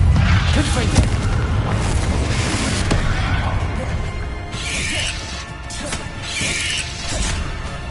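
Confringo spell blasts in Hogwarts Legacy on PS5: a heavy booming explosion with crashing debris opens, followed by more impacts and crackling bursts, with a voice talking underneath.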